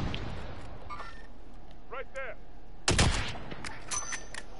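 Gunfire from another squad in Call of Duty Warzone, heard as a short loud burst of shots near the middle, with fainter pops after and game sounds in the background.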